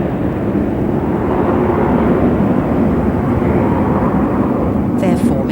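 A formation of nine airplanes flying overhead, a loud continuous roar of aircraft engines that holds steady throughout, with a faint higher flutter near the end.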